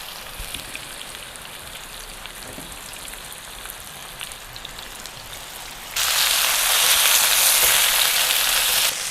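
Oil heated on a hot pan for cooking chicken fillet bursts into a loud, steady hiss partway through, following a quieter stretch of light kitchen noise, close and without talk.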